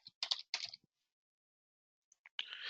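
Keystrokes on a computer keyboard as a search is typed in shop order software: a few quick bursts of taps, a pause of near silence, then a denser run of typing at the end, close and fairly quiet.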